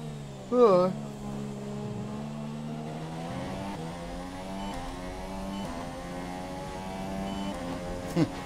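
Formula 1 car engine in a racing video game at the USA Grand Prix, a steady droning whine with shifting harmonics holding at moderate level throughout, a brief louder burst near the start, with a voice talking faintly over it.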